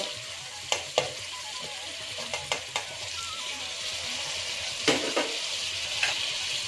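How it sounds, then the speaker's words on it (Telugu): Vegetables, tomatoes, carrot and potato with garlic paste, sizzling and frying in a pan while being stirred, with a steady close hiss punctuated by several sharp scrapes and clanks of the spoon against the pan. "వెజిటబుల్స్ అన్నీ యాడ్ చేశానండి. ఇంకా చక్కగా కలుపుకుంటున్నాను."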